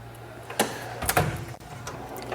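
A metal tool drawer slides in a home garage during organizing, a few short scraping, rolling and clunking bursts close by over a low steady hum, with no talk.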